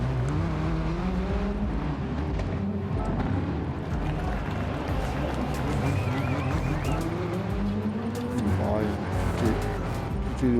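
An Audi quattro rally car in Gran Turismo Sport roars through a steady engine drone, revving up and down with tire noise across the stretch, while people talk over it throughout.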